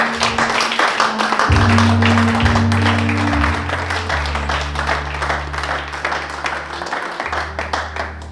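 Church congregation applauding during worship, a steady wash of many hands clapping over sustained low organ or keyboard chords, continuing loudly throughout.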